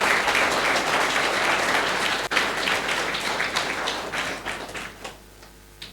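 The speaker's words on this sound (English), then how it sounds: "give him a loud round of applause once again for the excellent speech" Audience applause at a DAV school Ganesh Chaturthi speech event, honoring a student's speech: dense, sustained clapping from a crowd that holds steady, then thins and fades out toward the end.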